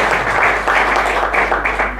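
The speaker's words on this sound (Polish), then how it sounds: "Brawa się należy" Steady audience clapping at a Polish discussion meeting, dense and continuous with slight swells, filling the room without voices on top.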